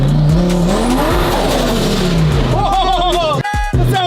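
A loud engine of a Lamborghini-styled car revs hard with rising and falling pitch while tires squeal, close up and continuous throughout.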